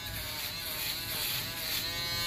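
Babyliss Pro Foil FX02 electric foil shaver running in a steady, close buzz that holds throughout without pause, a bright high-pitched whine over a low hum.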